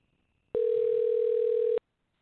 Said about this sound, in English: We're calling Richard on the phone